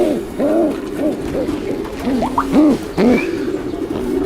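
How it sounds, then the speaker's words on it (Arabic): Homing pigeons bred from long-distance racing champions coo repeatedly in soft rising-and-falling phrases, close by, over a low background hum. "هذا الطير يعتبر من أهم الحمام المنتج عندي"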